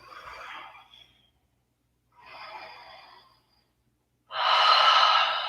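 Slow, deep breaths during a vinyasa yoga practice in a low lunge: two soft, airy breaths separated by pauses, then a louder, sustained rushing exhale, close and with no talking.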